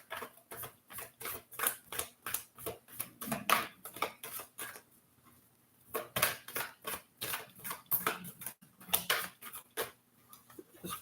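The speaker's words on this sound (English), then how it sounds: "Let me shuffle like this." Tarot cards are shuffled by hand in repeated crisp, rapid riffling bursts, with a brief pause midway before the shuffling resumes.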